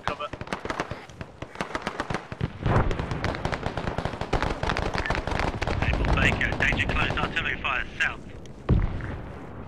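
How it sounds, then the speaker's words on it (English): Heavy machine gun fire in Arma 3 combat: rapid, loud bursts of automatic rounds with rattling reports, running almost continuously amid the battle, with voices shouting over and between the shots. "Heavy machine gun."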